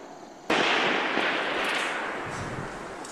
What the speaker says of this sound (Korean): 어둠을 뚫고 울려 퍼진 총성.